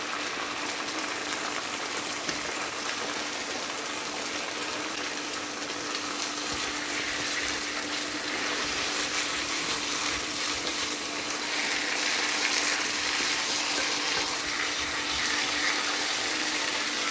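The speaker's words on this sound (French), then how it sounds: "Si c'est possible, vous mettez de l'eau chaude et on verse ça." Hot water mixed with diluted tomato paste poured into a chicken and pea tagine makes a continuous, even rushing and bubbling wash that stays steady and close for the whole stretch, with no talking.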